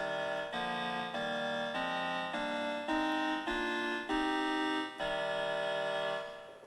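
A sequence of sustained minor chords from an Orba 2 synthesizer, each held about half a second, with a darker quality, played alone and steady in loudness.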